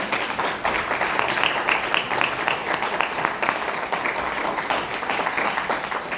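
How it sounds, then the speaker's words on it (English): Audience at an Ankeny Area Chamber of Commerce state senate candidate forum applauds both candidates, a continuous close crowd clapping with dense overlapping hand claps throughout. "Round of applause for them both"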